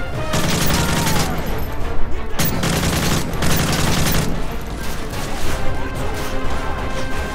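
Shotgun fire rattles through a Call of Duty MW3 match, with dense, loud blasts and clattering impacts crowding the mix and a player talking faintly underneath.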